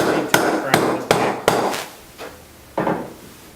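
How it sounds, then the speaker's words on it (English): A rubber mallet taps around the pin of a pool filter band clamp, giving about five sharp, close knocks in quick succession, then a pause and one more thud. "take your rubber mallet, and gently tap around the pin."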